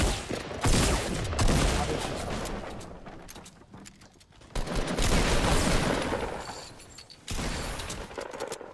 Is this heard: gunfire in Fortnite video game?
yes